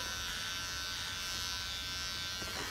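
Electric hair clippers with a 3 mm setting buzz steadily while cutting hair for a clippers-only buzz cut at home, a close, unbroken motor drone with no talking.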